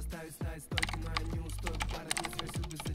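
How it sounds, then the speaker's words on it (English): Computer keyboard keys being pressed to type a chat message, a quick run of close clicky keystrokes with short pauses and a couple of louder taps. "you wanna type in which one your message to be"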